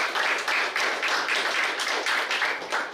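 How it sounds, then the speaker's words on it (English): Applause at an International Youth Day ceremony, a steady, fairly loud stretch of clapping from a gathered audience with a slightly pulsing rhythm, no talk over it. "May we please give her another round of applause."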